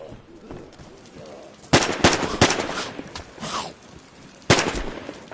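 Gunfire in DayZ as a magazine is emptied, with a burst of several sharp close shots in quick succession, a pause, and one more loud report near the end, set against quiet ambient noise.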